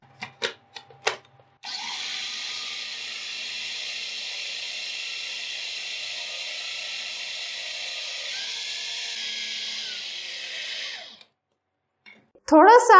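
An electric chopper whirs steadily for about nine seconds, blending a pistachio ice cream mixture, a high, even motor drone that dips slightly near the end before stopping, with brief clatter before and after.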